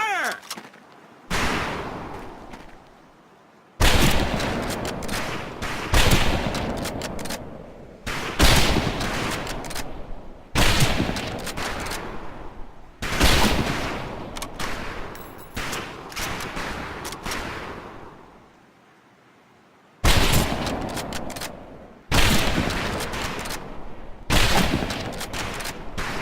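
Rifles fire on a shooting range in the Medal of Honor Pacific Assault video game: close, loud volleys of rapid shots come in repeated bursts, separated by short pauses and brief lulls.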